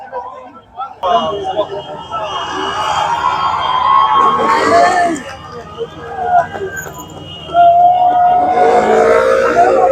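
A roadside crowd at an Olympic torch relay cheers and shouts, with a siren-like wail and vehicle noise passing, loud and continuous, with voices throughout.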